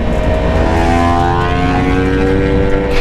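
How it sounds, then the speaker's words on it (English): A Yamaha MT-10 motorcycle with a Toast aftermarket exhaust runs loud and close, its steady droning engine note rich in harmonics and shifting slightly in pitch, with no voices over it. "I know the Toast exhaust gets a lot of hate, but man, that thing sounds good."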